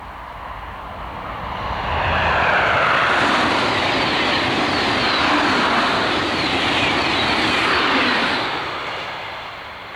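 A TGV high-speed train rushes past on the line near Époisses, a loud broadband roar that swells over two seconds, holds steady and then begins to fade, heard alone without voices.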